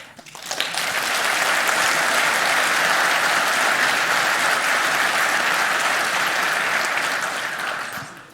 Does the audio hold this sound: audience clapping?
yes